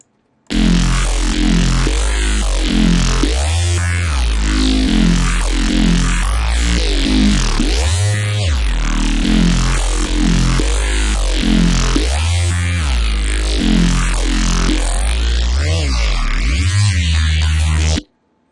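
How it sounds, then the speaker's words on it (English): A deep synthesized bass plays a rhythmic pattern of wobbling, buzzy notes, loud and steady throughout, with no other sounds. "we now have a bass already that sounds like this"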